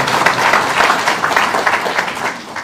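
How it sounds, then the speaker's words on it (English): An audience at a gathering with people from Nairobi and Machakos breaks into loud, dense applause, many hands clapping at once in a full steady burst nearby. "Can you clap for us?"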